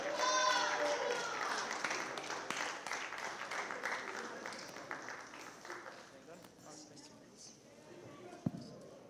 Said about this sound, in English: I heard clapping